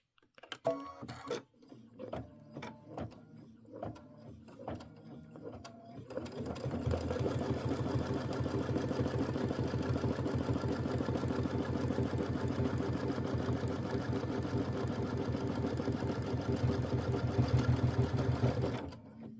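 An embroidery sewing machine stitches the left binding of a decorative hot pad, starting with a few separate stitch bursts before settling into a loud, continuous, even run of rapid stitching to the end.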